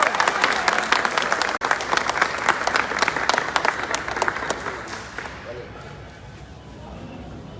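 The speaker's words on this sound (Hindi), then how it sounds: "एक जोरदार तालियों के साथ" Loud, dense applause from an event audience in Lucknow, welcoming a leader to the stage, fills the room steadily before thinning out toward the end.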